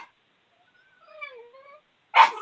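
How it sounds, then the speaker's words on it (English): A dog lets out a short, faint whimpering whine that rises and falls, followed by one sharp, louder bark, heard over a near-silent background. "Sorry, I have a barky dog."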